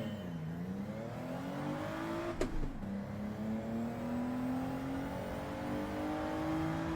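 A Gran Turismo 7 race car launches off the line with traction control switched off, its engine revving in a long rising drone with a brief sharp spike as it bites, running steadily and loud throughout.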